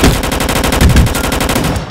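Rapid automatic gunfire in the Roblox video game, a loud, steady stream of closely spaced shots that continues without a break.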